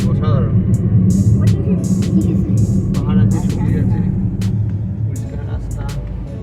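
Steady low rumble of a car driving along a highway toward Convict Lake in California, a continuous close engine and road noise, with people talking inside the car over it.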